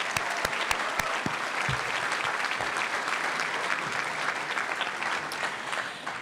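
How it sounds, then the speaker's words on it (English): Abbey Park High School's 2018 graduating class and audience break into dense, steady applause at a commencement ceremony, with a few crisp nearby claps at the start. "Let's give us another round of applause."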